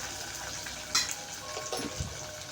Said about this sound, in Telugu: కరివేపాకు కూడా కొంచెం వేగిన తర్వాత